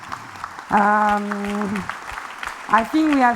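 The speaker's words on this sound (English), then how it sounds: "Please applaud the new rising talents." Applause from an event audience greeting a group of new rising talents, a broad patter running beneath a speaker who talks over it for most of the moment.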